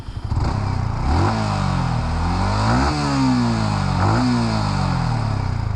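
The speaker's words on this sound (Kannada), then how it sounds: "ಇದು ಎಕ್ಸಾಸ್ಟ್ ಸೌಂಡು, ಇದು BS6 ವೇರಿಯಂಟ್ ಇದು" Yamaha R15 V4 BS6 sport motorcycle exhaust revving close by, three distinct throttle blips rising and falling over a steady idle, loud with no talk.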